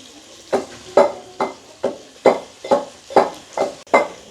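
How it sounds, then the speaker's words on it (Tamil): Onion, green chili and garlic sauté in a pan, stirred in about eight evenly spaced, loud scraping strokes close by, a soft sizzle between them and no talk. "வெங்காயம் பச்சை மிளகாய் அதோட வந்து உள்ளியும் பதங்கிட்டுது."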